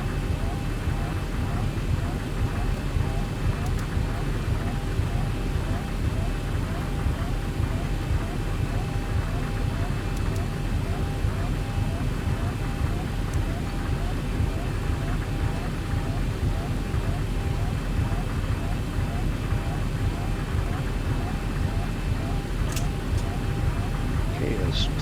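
A Zibo Boeing 737-800 airliner in the X-Plane flight simulator, on runway 01 at Jackson Hole, Wyoming, rolls for takeoff with a steady, dense engine roar and a faint whine that holds evenly throughout.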